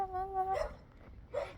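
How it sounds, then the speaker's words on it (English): A pet dog gives a drawn-out, wavering howl during a late-night walk, then falls silent before a second shorter yelp-like cry near the end, close by and fairly clear over faint outdoor background. "He started howling."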